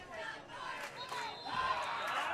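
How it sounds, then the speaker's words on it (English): A crowd at a 2017 Stigler football game cheers and shouts in a broad, swelling roar that grows louder toward the end, with some voices standing out within the noise. "Look at the Stigler crowd cheering."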